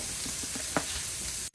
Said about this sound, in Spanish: Y aquí mismo vamos a poner a dorar la cebolla con el ajito.